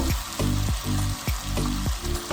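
Carrots go into vegetables frying in a pan, giving a loud steady sizzle with a regular run of low clanks and knocks about every third of a second as the pan is worked.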